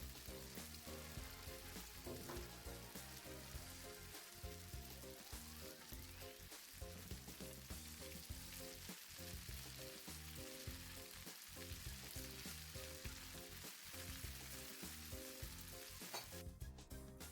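Zucchini and al dente vermicelli sizzle steadily in a frying pan while being mixed, a continuous soft crackle broken by repeated scraping stirs, fairly quiet and close.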